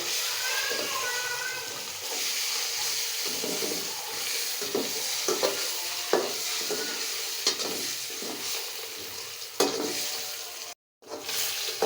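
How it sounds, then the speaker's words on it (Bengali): Eggs seasoned with salt and turmeric fry loudly in hot oil, a dense sizzle punctuated by repeated scraping stirs of a spatula against the pan, with a brief dropout near the end. "আমি এখন ডিমগুলা ভাইজে নিব"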